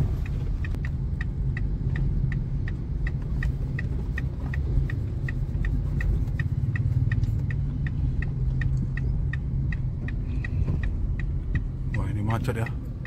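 Car creeping through a traffic jam in Cunda, Lhokseumawe, Aceh: a low steady engine rumble inside the cabin with a regular ticking like an indicator, heard continuously.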